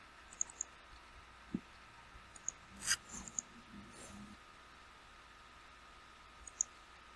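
Computer mouse clicks during ServiceNow form work, a few sparse crisp taps scattered across a quiet background, with a small cluster near the middle.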